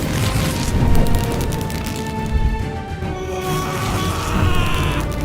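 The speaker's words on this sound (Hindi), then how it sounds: "ऑक्टेन विस्फोट।" A fantasy energy blast called an octane explosion bursts from a fighter's palms and knocks a tree flat at a deserted practice spot outside a city, giving a loud, dense, rumbling boom that rolls on for several seconds with crackling texture.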